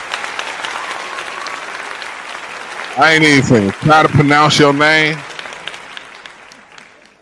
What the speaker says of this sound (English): I'm gonna give you applause for commenting